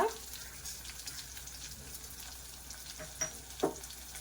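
Cumin seeds fry in hot oil for a chana dal and cabbage curry, a close, continuous crackling sizzle with a couple of louder pops and spoon scrapes toward the end.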